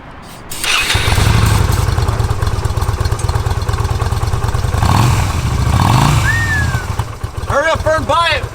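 A small motorcycle engine sputters to life and revs loudly and steadily for several seconds after starting fluid is sprayed in, with people talking and exclaiming over it throughout.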